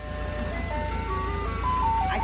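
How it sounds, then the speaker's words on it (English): A tinkling ice cream truck jingle plays steadily over a low engine rumble, clear and fairly close. "This familiar tune tells him that he is about to enjoy a cool ice cream."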